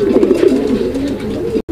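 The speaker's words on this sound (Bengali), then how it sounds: "আমরা এই মুহূর্তে দেখাচ্ছি আরো এক জোড়া কবুতর" Pigeons coo close by in a loud, continuous run of low, rolling calls that overlap one another, then cut off abruptly near the end.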